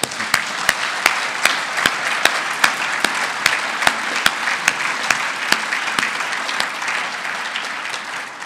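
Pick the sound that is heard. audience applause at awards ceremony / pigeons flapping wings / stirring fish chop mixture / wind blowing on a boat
audience applause at awards ceremony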